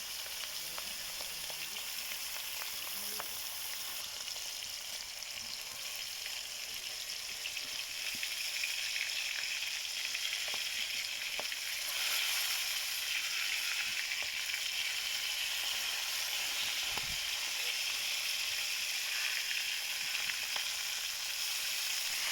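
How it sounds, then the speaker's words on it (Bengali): Pangas fish pieces fry in hot oil in a pan on a home stove, a continuous close sizzle and crackle with small spitting pops, steady throughout and without talk. "মাছ ভাজার জন্য বসিয়ে দিলাম এবার আস্তে আস্তে আমি মাছগুলোকে ভেজে নেবো"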